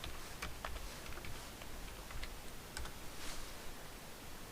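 Quiet computer keyboard typing, a quick run of light clicking keystrokes over steady background hiss.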